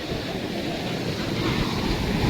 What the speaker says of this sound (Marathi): आणि हा धबधबा बघा. हेच धबधबा बघण्यासाठी लोक येतात सगळे.